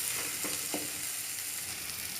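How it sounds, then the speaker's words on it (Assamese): Tomatoes fry in a pan with a steady close sizzle, while a spatula stirs through them with a few soft scraping strokes; no voices. "বিলাহীখিনি অলপ মানে গলি নোযোৱালৈকে ভালকৈ ভাজিব লাগিব"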